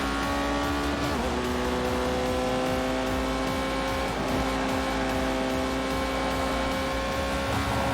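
Porsche 918 racing on a track in The Grand Tour video game, a loud sustained engine howl with steady high revs and a brief gear shift, continuous throughout with no talk.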